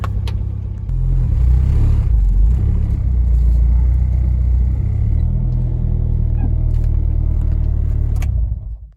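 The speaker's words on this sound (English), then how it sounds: "And we got the idle smooth, so it's still a little bit cold" An Acura RSX engine running on E85 idles smoothly while still a little cold, giving a loud, steady low rumble close by that stays even throughout and then cuts off at the end.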